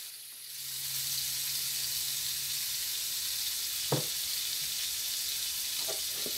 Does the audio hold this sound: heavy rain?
no